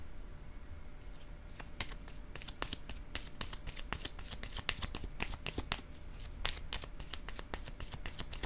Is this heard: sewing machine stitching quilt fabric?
no